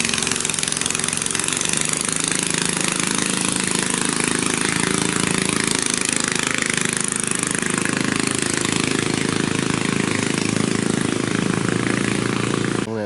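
A Honda engine powers a small wooden boat, droning loud and steady at close range with no break from start to finish, the rough motor note running alone without voices.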